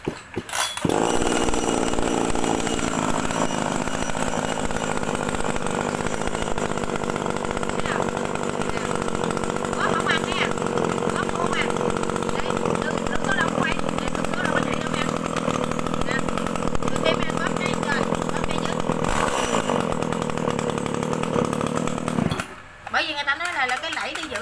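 A STIHL 024 chainsaw engine runs loudly and steadily for most of the clip, droning near and continuous before briefly cutting off near the end.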